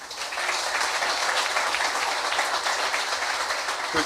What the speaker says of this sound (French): je demande de vifs applaudissements pour lui